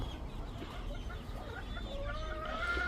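Chickens cluck softly and chicks peep in a busy, continuous chatter, fairly close, over low background noise.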